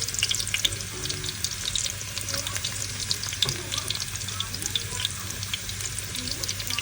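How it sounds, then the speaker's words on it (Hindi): Chopped garlic sizzles in leftover oil that paneer was fried in, for palak paneer, as a steady, close, crackling hiss that continues without pause and without talk. "ये लेफ्ट ओवर ऑयल है जो कि जिसमें पनीर फ्राई हुए थे, इसमें हम चॉप किया वो गार्लिक ऐड कर देंगे।"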